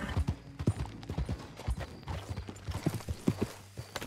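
Horse hooves clip-clop steadily in Red Dead Redemption 2, a rhythmic run of close, clear hoof strikes with a low drone beneath and no talking.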